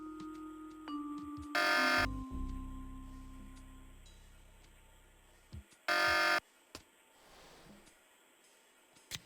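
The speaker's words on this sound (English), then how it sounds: "Sounds like I got that alarm turned off." An alarm buzzer in the 1996 game Tex Murphy: Pandora Directive sounds in two short, loud harsh bursts several seconds apart, with quiet electronic tones and a low falling hum between them.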